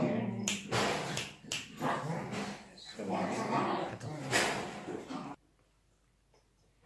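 Dogs barking in bursts, close and loud, with a person talking at times in between, then a sudden drop to near silence near the end.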